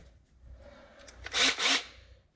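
Sandpaper disc lightly polishing the rough inside surface of a model articulated dump truck part, giving two short, loud abrasive rasping bursts close up over a quiet background.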